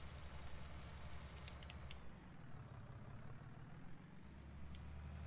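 A John Deere 9610 machine's engine in Farming Simulator 19 running through a grape field, a faint, steady low drone that dips and shifts in pitch partway through.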